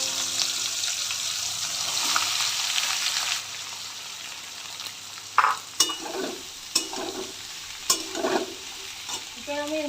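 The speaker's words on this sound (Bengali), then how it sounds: "এরপর আমি ভালো করে ভাজা হয়ে গেলে তারপর আমি এর মধ্যে এই কেটে রাখা পেঁয়াজ কুচিগুলো দিয়ে দেবো।" Chopped onions frying with chicken in a pan, a steady loud sizzle broken by several sharp scraping stirs of a spoon against the pan toward the end.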